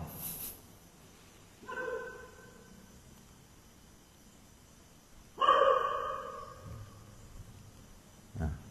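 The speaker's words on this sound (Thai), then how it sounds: "ใครหนอมาทำให้หมาเห่า" Dog barking outdoors during an evening sermon, two separate bark-like bursts several seconds apart, moderately distant and loud against a quiet background, with a faint thump at the end.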